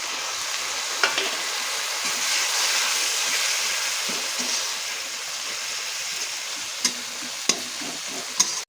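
Spice paste thinned with a little water sautéing in a pan, a steady hissing sizzle with occasional sharp taps and scrapes of a spoon as it is stirred.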